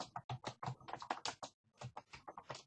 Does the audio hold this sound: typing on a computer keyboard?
yes